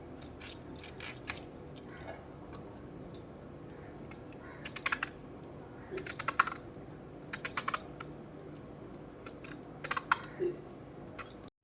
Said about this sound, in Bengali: আস্তে আস্তে সব পটলগুলোকে কেটে নিচ্ছি।